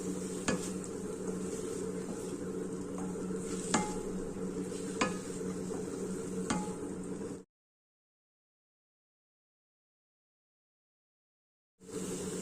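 Ridge gourd peel fries in a pan with coconut and chillies, a steady close sizzle with occasional sharp clicks of a utensil, then cutting to silence before the frying resumes.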